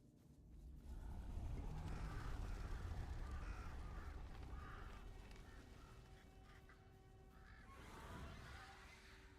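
A crow caws repeatedly in the video game Tainted Grail, harsh calls of moderate loudness over a steady ambient background. No one speaks.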